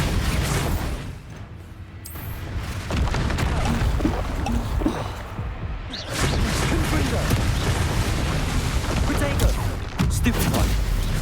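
Hogwarts Legacy spell-casting combat: a dense, continuous barrage of magical blasts, whooshes and booming impacts from Crucio, Confringo, Expelliarmus and Bombarda, loud and layered with brief lulls, voices calling out incantations over the clamor.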